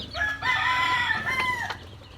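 Loud, close calls of chicks with sustained harmonic tones and a clucking quality, steady for about two seconds before fading, with no speech.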